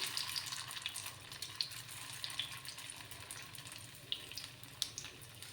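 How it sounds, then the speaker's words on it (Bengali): Snacks frying in oil in a pan give a soft, continuous hiss with scattered small crackles and pops, faint and steady with no talk. "যে বাকি দুটো আছে সেগুলো সেম প্রসেসেই ভেজে নেব আমি"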